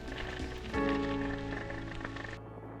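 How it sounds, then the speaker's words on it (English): Wind and rain storm lashing the quay at Cesme, a steady broadband roar of rain and gusts with a louder surge partway through, continuous and close, no talking. "The wind and the rain."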